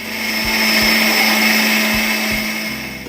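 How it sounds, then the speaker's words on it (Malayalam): A kitchen mixer grinder blends pressure-cooked butter chicken base into a paste with a loud, steady motor whine. The whirring stays close and runs unbroken for a few seconds. "കുക്കറിൽ വേവിച്ചതെല്ലാം മിക്സിയിലേക്ക് ഇട്ടു നമുക്കിതൊന്ന് അരച്ചെടുക്കാം"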